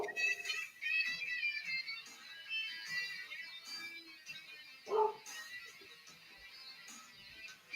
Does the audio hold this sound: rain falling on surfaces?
no